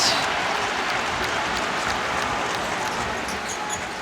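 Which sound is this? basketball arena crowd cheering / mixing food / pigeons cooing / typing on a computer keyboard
basketball arena crowd cheering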